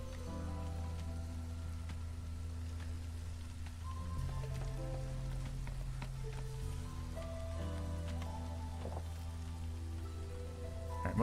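Light drizzle pattering steadily in a video game, an even wash of soft raindrops over a low ambient background music bed, continuous and fairly faint throughout.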